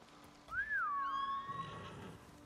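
In the video game Ghost of Tsushima, a rising and falling whistle calls a horse, and a whinny-like neigh follows at once, clear and fairly close over a faint wintry ambience.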